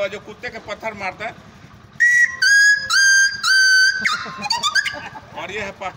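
A man vocally imitates a dog yelping after being struck by a stone, producing a series of high, whistle-like cries in short bursts that are loud and close, preceded by rapid chatter.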